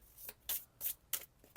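A few quick riffles of tarot cards being shuffled, close by and crisp, with short pauses between the bursts.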